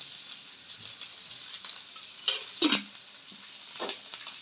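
Onion fries in hot oil with a soft, close hiss broken by a few louder spitting bursts that sound like stirring. There is no talking.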